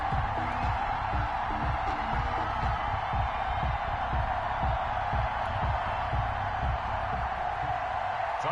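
A big stadium crowd roars as the Buffalo Bills run out of the tunnel before facing the Baltimore Ravens, a dense, sustained wash of cheering that holds steady throughout.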